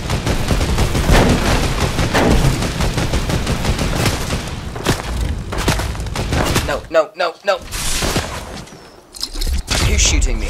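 Rapid bursts of gunfire in the Fortnite battle royale game rattle densely for several seconds, then break into scattered single shots and short gaps, loud and near, with a voice talking over parts of it.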